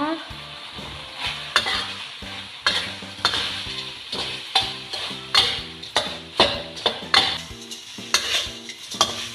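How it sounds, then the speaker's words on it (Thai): Fried fluffy catfish is stir-fried in a wok with curry paste and kaffir lime leaves. Loud, rhythmic metal scrapes and clanks of the spatula repeat about once a second over a steady close sizzle, with no speech. "เดี๋ยวเราจะน ำปลาดุกที่เราทอดไว้นะคะปลาดุกปรุงเราลงไปผัดเลยค่ะ ตามด้วยใบมะกรูดนะคะ"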